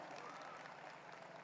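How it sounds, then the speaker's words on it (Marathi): Women in a crowd at a political rally in Thane clap together, a dense, steady wash of hand claps filling the whole stretch with no clear pauses. "सगळ्या महिलांनी टाळ्या वाजवा"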